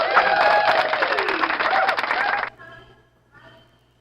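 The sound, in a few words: audience applause for a speaker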